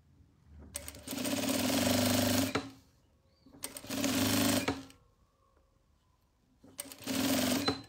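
An electric sewing machine stitches fabric for a small pharmacy-style pouch in three separate runs of about two seconds each, a loud close whirring buzz with short quiet pauses between the runs.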